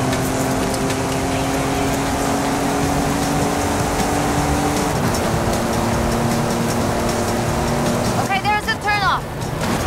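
In Forza Horizon 5 a car drives into a desert sandstorm, giving a steady engine drone layered with a constant wind and grit rush and a brief shifting whine near the end.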